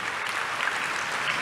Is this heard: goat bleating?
no